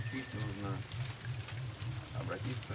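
Steady rain falls in Indonesia with a dense, even hiss that continues throughout, while a voice speaks softly over it near the start.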